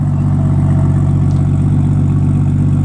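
Car engine running steadily the whole time, a loud, dense low rumble with a pulsing idle rhythm close by, with no clear rise into a rev.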